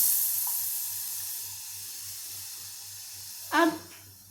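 Kat, the spicy broth for Maharashtrian katachi amti, hisses and sizzles steadily in a hot pan, a bright constant frying wash with a brief voice near the end.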